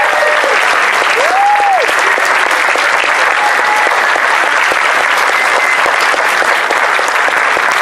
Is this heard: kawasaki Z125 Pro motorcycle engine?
no